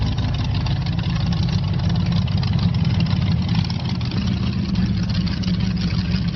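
Engine of the tallest rideable motorbike, about five metres high, rumbles steadily at a loud, constant idle with a deep low-end drone and no breaks.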